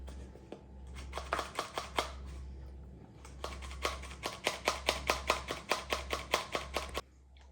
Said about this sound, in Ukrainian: борошно я сюди зараз просію 225 грам